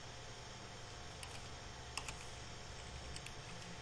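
Typing on a computer keyboard while entering HTML code: sparse, faint key clicks over a quiet steady hum, with a few taps spaced irregularly and no voices.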